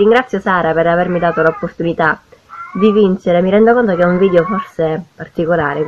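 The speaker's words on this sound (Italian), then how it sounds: "Scusate il gatto in sottofondo." A cat meows in the background, its drawn-out cries blending under someone talking close to the microphone indoors.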